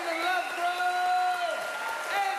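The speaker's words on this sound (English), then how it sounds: "a big round of applause for all our roasters" Audience applause for the comedians at a 2010 Comedy Central roast of Mike King, a steady clatter sitting beneath a loud, drawn-out voice of the MC calling over the crowd.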